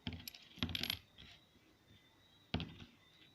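Jamaican coins drop and jingle in two bursts, a cluster of bright metallic clinks early on and another short clatter later, close and fairly quiet.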